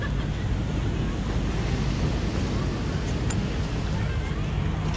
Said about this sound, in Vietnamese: Dọc biển này gió riu riu vô mát